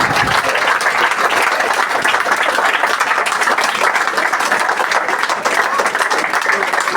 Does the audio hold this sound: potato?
no